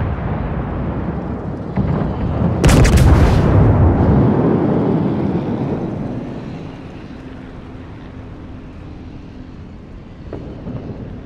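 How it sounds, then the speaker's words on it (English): Naval shell impacts and gunfire in the game World of Warships: a sharp loud blast followed by a rolling, rumbling explosion that slowly fades over several seconds, with no talk. "Where the shell actually hit me is where the explosion is."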